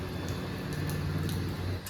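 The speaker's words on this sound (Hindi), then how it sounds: "देखो बाहर बारिश हो रही है" Rain falls steadily outside a home on a morning with motorbikes and scooters on the road, a continuous soft hiss with low traffic rumble underneath and no talking.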